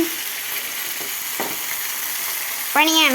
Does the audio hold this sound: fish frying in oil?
yes